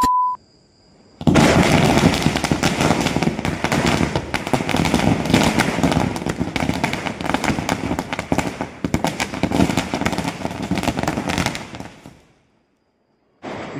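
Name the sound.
Diwali firecrackers bursting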